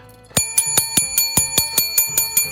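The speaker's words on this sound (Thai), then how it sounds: "ขออนุญาตเสก กระดิ่งนี้" A small hand bell is struck about ten times in a quick, fairly even rhythm, each ring bright and metallic with a short fading tail, loud and close with no talking.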